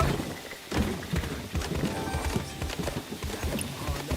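Horse hooves clip-clopping in the game Where Winds Meet, a steady trotting rhythm of close hoofbeats with a brief whinny, over ambient game sound.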